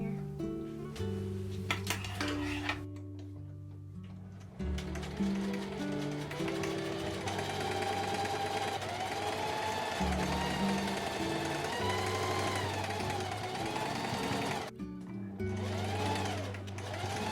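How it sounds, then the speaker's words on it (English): Sewing machine stitching along a seam while altering overalls into a skirt, its steady motor hum running in sustained bursts with brief pauses and a faint background tone, no talking. "I'm going to sew along here and try not to get this top part in here."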